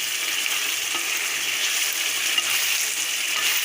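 Banana flower curry (mochar ghonto) is stirred in a pan as its water cooks off, giving a steady, close sizzling hiss with soft scraping from the stirring throughout.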